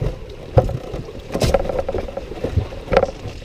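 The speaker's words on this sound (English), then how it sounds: "I'm just gonna enjoy this and row out." Oars dip and pull as a small boat is rowed out on calm water during a camping trip at Indian Arm, regular splashing strokes about every second with light knocks of the oars, close and fairly loud.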